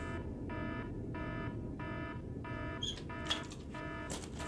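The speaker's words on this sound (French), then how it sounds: "Ta gueule, l'alarme!" A repeating electronic alarm sounds in regular on-off pulses of buzzing tone, moderately loud, with a few clattering noises near the end.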